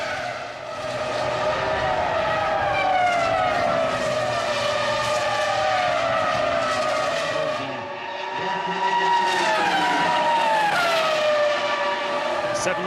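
2005 Formula One cars racing at the Spanish Grand Prix in Barcelona, engines screaming at high pitch and sweeping up and down through gear changes as cars pass in close succession, with a commentator speaking over them.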